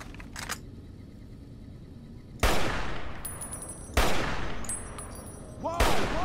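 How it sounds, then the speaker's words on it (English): Gunfire rings out at a shooting range in Fallout New Vegas: three loud, sharp shots spaced a couple of seconds apart, each followed by a long, echoing decay. "There's somebody complaining about me shooting in the shooting range."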